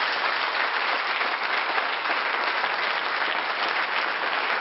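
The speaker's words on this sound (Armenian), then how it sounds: "ուզում ծափահարենք հորս և մորս" An audience claps at a medal award ceremony, a steady, dense wash of applause that holds evenly for several seconds with no voices rising above it.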